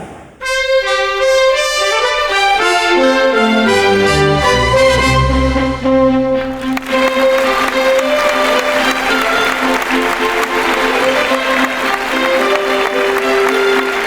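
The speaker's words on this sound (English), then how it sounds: "please welcome with a huge round of applause Pulela Gopichand and P.T. Usha." Audience applause at an awards show: a musical sting of descending tones opens the stretch, then loud, dense clapping takes over for the second half and carries on to the end.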